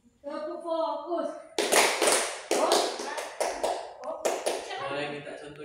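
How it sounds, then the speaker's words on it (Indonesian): Children in a classroom perform a rhythmic clapping routine, a sung or chanted call followed by bursts of sharp patterned claps and taps, close and lively, with young voices chanting between the claps. "Tepuk fokus."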